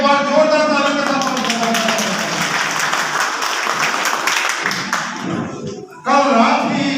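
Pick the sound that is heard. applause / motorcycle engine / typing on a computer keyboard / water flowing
applause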